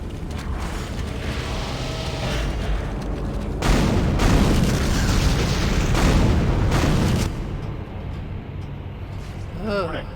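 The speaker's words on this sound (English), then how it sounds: "I can hear the explosions." Explosions rumble aboard a failing spaceship in the game Dead Space, heavy booms and a dense roar swelling in the middle, then easing into a low mechanical hum with a faint rising tone at the end.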